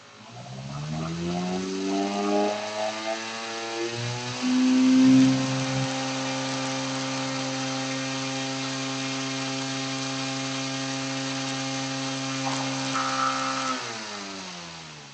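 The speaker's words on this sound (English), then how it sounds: "as I increase that width of the pulse, you heard the RPMs pick up" Small DC motor driven by PWM at constant input voltage and frequency, its whine rising in pitch as the pulse width is increased, a steady tonal hum with stepped harmonics running alone throughout.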